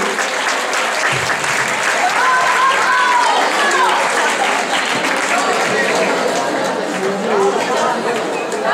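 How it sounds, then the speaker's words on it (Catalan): An audience claps for a school football team at an outdoor prize ceremony, sustained loud applause mixed with crowd chatter and voices throughout. "Venga, un aplaudiment per ells"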